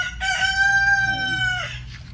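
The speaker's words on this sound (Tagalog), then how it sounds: "nakita nyo naman free-range chicken." A rooster crows loudly and close by in one long drawn-out call, with low clucking from free-range chickens and farmyard murmur underneath, on a Philippine pig farm.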